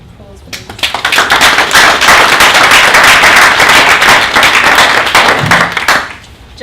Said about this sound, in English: Can you give Jasmine a round of applause, please?